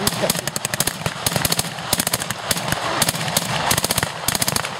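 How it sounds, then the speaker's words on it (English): Rapid crackling rifle fire from M1 Garand rifles during a WWII battle reenactment, with many sharp overlapping shots in dense, uneven volleys that continue loudly for the whole stretch. "The Garand could fire 9 rounds as quickly as you could pull the trigger."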